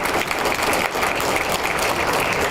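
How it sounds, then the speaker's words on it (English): A crowd at a pro-Israel prayer event claps loudly and continuously for a congressman, a thick wash of applause that holds steady from start to finish. "So let's give Congressman Torres a big round of applause for his courageous leadership."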